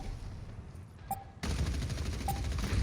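Rapid weapon fire from Sombra in Overwatch on the Lijiang Tower map, a dense continuous rattle of gunshots with a sharp jump in loudness midway and a couple of brief higher pings over the barrage.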